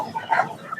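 Chickens clucking among other fowl at the Fatullah poultry market in Narayanganj, Bangladesh, with a few short, moderately close calls over a busy market background, no talking.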